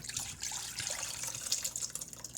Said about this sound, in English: so let's just pour it into the pot.